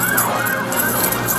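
A police siren wails steadily and loudly throughout, its pitch sweeping up and down over road traffic noise during a traffic stop in Massachusetts.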